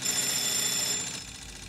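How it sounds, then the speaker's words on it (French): Telephone ringing in a scene from the TV drama Better Call Saul, a steady bright electronic ring filling the short moment at close range, fading slightly toward the end, with no talk over it. "Téléphone, c'est Mike."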